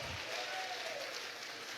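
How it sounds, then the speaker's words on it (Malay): A crowd at an election campaign rally in Masai, Johor, gives a faint, distant, continuous round of applause. A thin whistle-like tone briefly sits over the clapping. "Tepukan gemuruh."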